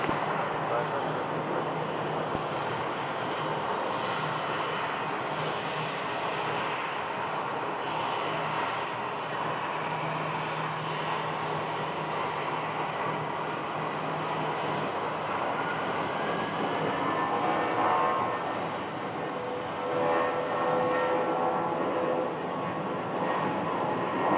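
Steady, loud jet roar of an airliner arriving to land on runway 25 left at Phoenix airport, a continuous broad rumble with a slight swell near the end and no clear speech over it.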